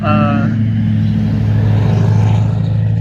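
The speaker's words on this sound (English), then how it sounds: "And here goes the truck driving by." A truck drives past on the road close by, its steady low engine rumble staying loud and continuous for the whole stretch, with a brief higher tonal whine at the start.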